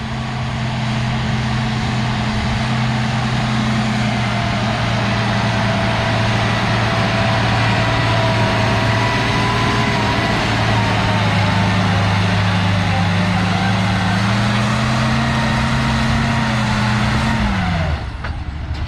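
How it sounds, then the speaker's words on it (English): An International 1066 tractor at a tractor pull makes a loud, sustained, heavy engine drone with steady harmonics that rise slightly in pitch, then cuts off abruptly near the end. "we got a new tractor on the track. I haven't seen this one at any of our polls before, but I heard about it. International 1066."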